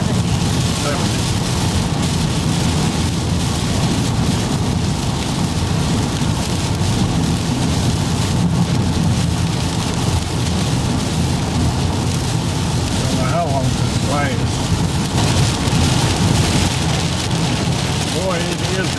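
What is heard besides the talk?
heavy rain on a car during a road trip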